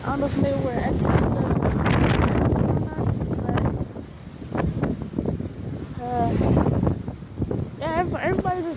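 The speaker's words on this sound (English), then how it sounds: "it's really getting windy." Hurricane Michael winds roar in repeated heavy gusts against the microphone, surging and easing in waves with brief lulls between, close and loud throughout.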